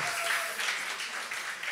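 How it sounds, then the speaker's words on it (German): Live crowd at a bar event venue in Freiburg claps in brief, fairly loud applause, a dense steady patter that lasts under two seconds. "Und deswegen erstmal ein Applaus an euch"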